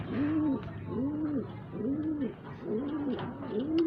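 Pigeons coo in a steady rhythm of five rounded, swelling calls about a second apart, close and clear over a low outdoor hum, with no talking.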